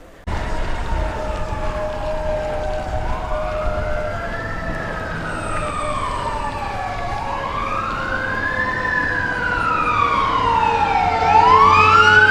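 An emergency vehicle siren wails and sweeps up and down as it passes on a cold November night street, loud and steady with Doppler-like pitch swoops over a constant traffic rumble.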